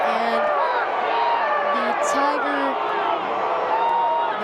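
High school football crowd at a Massillon Tigers game, a loud, sustained roar of voices and shouts in disagreement filling the stands, with a commentator's voice briefly over it.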